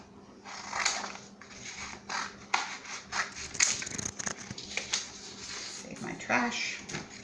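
Scissors snip through a stiff piece of material in a run of close, crisp cuts, with rustling handling noise and a voice speaking briefly in between.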